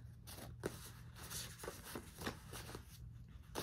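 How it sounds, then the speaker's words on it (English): Tarot cards are shuffled by hand in quiet, repeated riffling bursts, soft and close with short pauses between passes. "I'm trying to shuffle."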